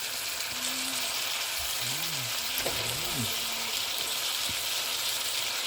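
Pork pieces frying in a pan for Bicol Express, a continuous soft sizzle running underneath, with a short voiced sound and a brief clatter over it partway through.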